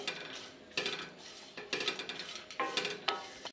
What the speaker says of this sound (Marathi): ज्या बिया टाकलेल्या आहेत त्या चटचट आवाज येतोय